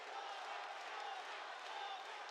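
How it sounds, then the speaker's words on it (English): Crowd at an MMA fight chanting Tommy, a steady distant roar of many voices filling the arena, continuous and even in level with no clear break. "you hear the crowd just chanting out Tommy"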